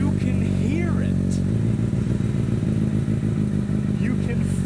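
A Honda Hornet motorcycle fitted with a Yoshimura exhaust idles close by with a deep, steady grumble, its throb continuing under brief bits of someone talking.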